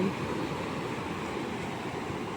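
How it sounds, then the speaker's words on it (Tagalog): Ocean waves wash onto a beach in a steady, even roar of surf, continuous and moderately loud with no voices over it. "Napakasarap pagmasdan yung alon."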